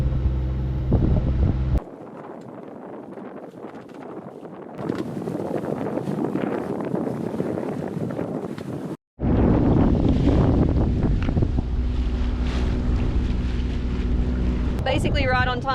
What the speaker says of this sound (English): Basically right on time, the wind has just started to pick up.